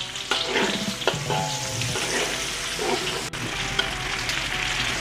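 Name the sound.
sliced onions frying in hot sambal oil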